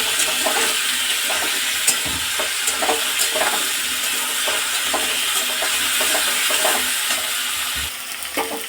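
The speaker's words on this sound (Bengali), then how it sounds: "নুন আর হলুদ দিয়ে দিয়েছি, ভাজার সাথে একটুখানি নেড়ে চেড়ে নেবো" A curry with fried omelette pieces, salt and turmeric sizzles in a pan while a spatula stirs it, steady frying hiss with repeated scraping strokes, close and without talking.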